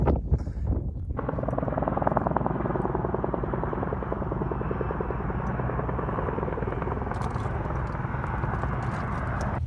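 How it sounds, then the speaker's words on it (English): Loud, steady rotor thump and engine drone of firefighting helicopters passing overhead toward a wildfire, continuous throughout with a brief quieter moment at the start. "Helicopters heading up to the fire up there."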